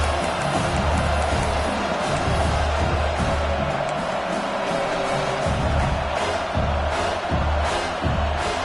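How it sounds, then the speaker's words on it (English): A stadium crowd at a football game roars and cheers in a loud, sustained wash of noise that swells and dips with surges of excitement. "This crowd knows when to bring it."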